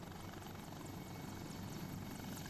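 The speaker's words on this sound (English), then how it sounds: "I can hear helicopters coming in here too at 159." Helicopters approach in a military video game, a continuous rotor thrum and engine drone filling the clip at steady, moderate loudness with no talk.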